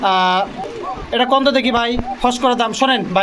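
White Lahori pigeons coo softly at a pigeon farm or market, the low calls mixed in with a man's loud, close talk.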